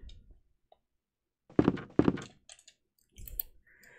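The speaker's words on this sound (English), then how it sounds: "Okay, let's reload." Pistol reload in Resident Evil Director's Cut: two sharp, close mechanical clacks in quick succession, a short pause, then a softer rattling click, with no other sound around them.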